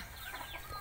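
On a native chicken farm in Clarin, Bohol, hens cluck briefly and quietly, with a couple of low murmuring calls close by and no voices.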